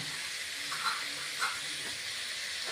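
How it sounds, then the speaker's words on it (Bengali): Green chili paste fries in a pan for a rui fish curry, making a soft, continuous hiss with faint bubbling pops. "এখন কাঁচা লঙ্কা বাটা দিয়েছি, দিয়ে এখন আরো 1 মিনিটের মতো ভেজে নেব"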